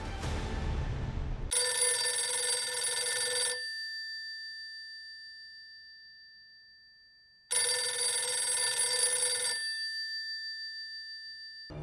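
A telephone rings twice and goes unanswered, two separate bursts of a bright electronic ring, each about two seconds long with a lingering tone, separated by a long stretch of near silence.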